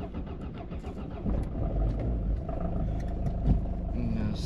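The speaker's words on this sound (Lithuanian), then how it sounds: "aš sugalvojau važiuoti su mašina" A car engine running and pulling away on a farm, a low steady rumble that swells slightly as it drives, fairly close.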